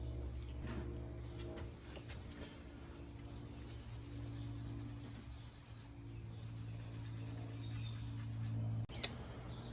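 An arrow shaft is scuffed with abrasive before fletching, a quiet, steady rubbing rasp with a faint background hum, ending in a small knock near the close.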